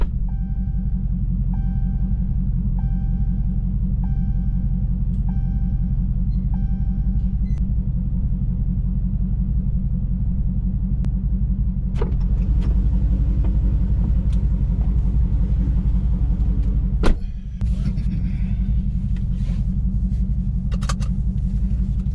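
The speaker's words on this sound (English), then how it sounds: "I didn't notice until after the muffler delete how great these cars sound" A Dodge 392 or Hellcat engine with a muffler delete idles with a deep, steady rumble, then revs and growls louder partway through, with a few sharp pops near the end.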